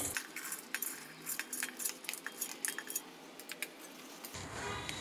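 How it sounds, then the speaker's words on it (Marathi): Soaked green mung beans and rice tipped into a steel mixer jar for dosa batter, giving quiet clinking and rattling taps and small scraping knocks in an irregular sequence, close by, with no talk. "तर हे मिक्सरच्या भांड्यामध्ये घालून घेते मी"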